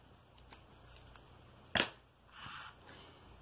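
Scissors make a single sharp, close snip as they trim excess covering off a craft stick, followed by a softer rustle and a few faint clicks, with no talk.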